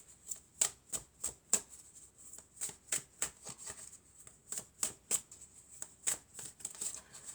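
Oracle cards shuffled by hand close up, a quick regular series of crisp riffling flicks and slaps, about two per second, continuing without pause and heard alone in a quiet room.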